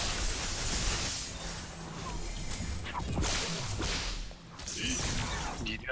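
Whip strikes from the character Yin in the online MOBA game Paragon, sharp cracks and swishes repeating amid loud, busy battle noise and game effects, with some background talk.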